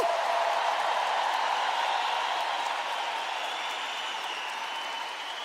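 A large congregation at a Catholic youth camp applauds in a steady, dense wash of clapping that holds evenly throughout and fades slightly toward the end, with no voices standing out.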